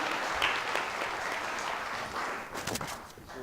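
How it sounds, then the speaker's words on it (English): A crowd claps in a steady, dense wash that holds evenly for a few seconds, then thins into a few sharper, closer claps near the end. "And round of applause."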